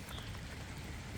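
Rain falls on a wet day where chickens are kept outside, making a soft, steady, even hiss that is faint and distant, with no other sounds over it.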